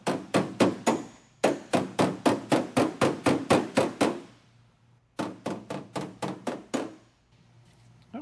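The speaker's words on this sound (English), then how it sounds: "apply the dolly to the back side of the repair area and lightly tap around the repair area" A body hammer lightly taps car body sheet metal held against a dolly, giving rapid, evenly spaced ringing metallic strikes in two close, crisp bursts of about a dozen blows each, with a short pause between.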